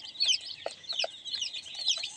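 Chickens and chicks at a poultry farm cluck and peep in a steady, moderately loud stream, with high chirps layered over lower clucks and no voices.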